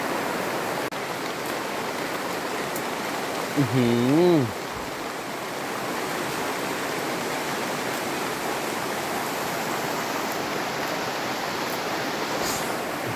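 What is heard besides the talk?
heavy rain in the forest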